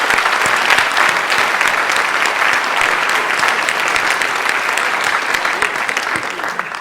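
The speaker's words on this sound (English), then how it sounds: "I'd like a round of applause for our math team" Sustained applause from an audience at a high school scholarship awards night, honoring the school's math team: dense, steady clapping that carries evenly throughout with no pauses, loud and close.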